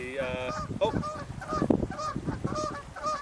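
Geese honk repeatedly overhead in a loud, overlapping flurry of calls, with a brief voice at the start.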